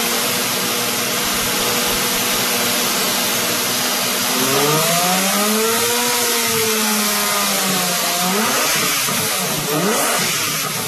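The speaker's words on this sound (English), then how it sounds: "the only music you're gonna want to hear is the song coming from that engine" A Lamborghini Murcielago's 12-cylinder engine roars close and loud, with no talk over it. The idle hum climbs into a rising, falling rev midway, then settles into a rougher burble.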